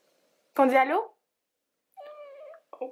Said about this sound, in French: c'est le chat qui est à côté de moi aujourd'hui.